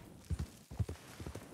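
Horse hooves clip-clopping in Red Dead Redemption II, a few soft, quick paired hoofbeats in an uneven walking rhythm, faint and close.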